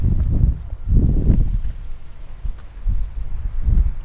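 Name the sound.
wind blowing outdoors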